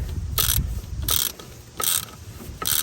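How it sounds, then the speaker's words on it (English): Ratchet fitted with a 13 mm deep well socket loosening a steering shaft bolt on a 1999-2004 Ford F-150 pickup, four close, loud bursts of rapid clicking separated by short pauses. "it's connected to a deep well 13 millimeter socket, and it's taking that bolt that goes onto the steering shaft"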